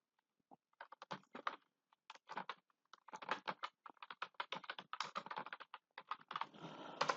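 Fingers tap a computer keyboard while entering text into an MS Excel attendance sheet, in quick irregular bursts of close, crisp keystrokes with brief pauses between runs and a faster flurry at the end.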